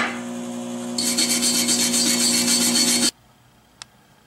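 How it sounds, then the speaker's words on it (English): Slag is cleaned off a 6013 stick weld on cast iron with a close, loud, steady rasping scrape lasting a couple of seconds. It stops abruptly and is followed by a single faint tick. "I'm gonna clean the slag, but I'm gonna be careful not to do anything that could resemble peening"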